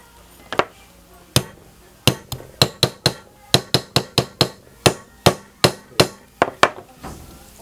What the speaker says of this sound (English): Have the cover and hammer away.